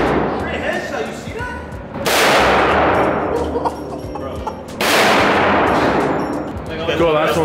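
Two heavy, booming shots from a .50 caliber sniper rifle ring out several seconds apart, each with a long rolling echo, while people talk excitedly between them.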